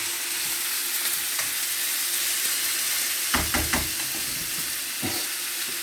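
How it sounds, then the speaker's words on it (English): Oil crackles and sizzles steadily as chicken breast fries in a pan for a vegetable stew, with a few louder pops and stirring clatters partway through. "So right now I'm frying it."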